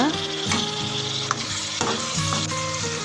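Tomatoes and slit green chillies being stirred in a hot frying pan for chicken 65 biryani, with a steady sizzle and a few distinct scrapes and knocks of the spoon against the pan, close and clear with no talking.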